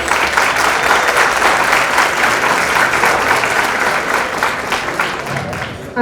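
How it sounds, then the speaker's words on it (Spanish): Loud, sustained applause from a conference audience at a public relations research congress, a thick continuous roar of clapping that tapers slightly near the end. "les pido un fuerte aplauso, por favor"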